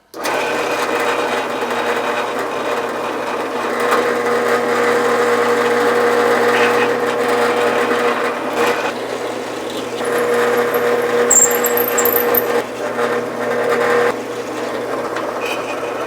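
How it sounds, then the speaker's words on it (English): A power tool reams bushing holes in billet hood hinges for a GTO restomod out to 16 mm, a steady loud motor whine running continuously with slight shifts in load. "let's get them reamed out to 16 millimeters, and all the bushing holes should be good to go"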